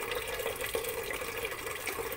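Water pours steadily into a cooking pot for a vegetable dish with fried fish, a continuous close splashing stream with no talk.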